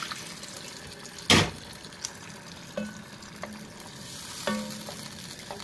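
Water heats in a pan of cooked tomato sauce for swordfish and aubergine calamarata, giving a soft steady simmer and sizzle with a few clinks and stirs.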